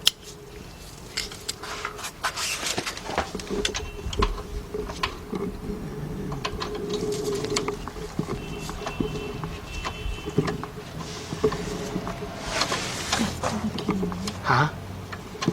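A swivel ratchet with a 13mm socket turns a bolt during a water-cooled alternator replacement on a BMW V8, giving bursts of quick metallic clicks with clanks and handling noise, close by.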